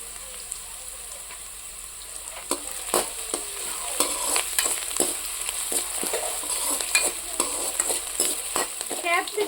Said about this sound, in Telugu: కరివేపాకు కొద్దిగా వేస్తున్నా.